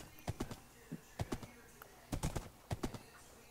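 Horse hooves clip-clop in Minecraft in short paired clusters of sharp taps with uneven pauses between them, close and fairly quiet, with no talking.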